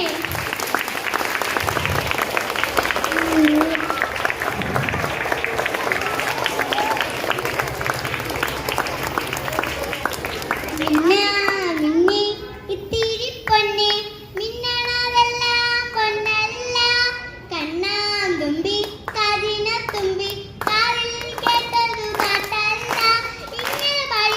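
A group of children at a government lower primary school clap together in a continuous burst of applause for about eleven seconds, after which they start singing a song, with their voices carrying over the lively room.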